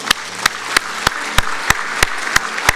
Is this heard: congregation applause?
yes